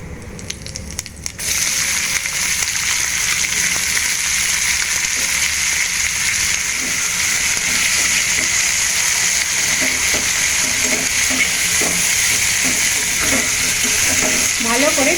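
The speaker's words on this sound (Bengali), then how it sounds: "ভালো করে পেঁয়াজটাকে ভেজে নেব।" Two large chopped onions hit hot oil with tempered whole spices in a pan for Kashmiri chicken. After a brief quieter moment, a loud, steady sizzle continues with occasional stirring scrapes and clicks.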